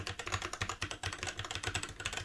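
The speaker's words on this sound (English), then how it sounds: "we'll tap away on the keyboard to see what it is like for picking up surrounding noise" Rapid typing on a Silentium PC keyboard with Cherry MX Brown switches, a quick, uneven stream of soft tactile key clacks at close range with no talking.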